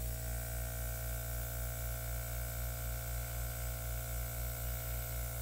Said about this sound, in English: I think I'm going to hit it with my airbrush just to bring that into the white a little bit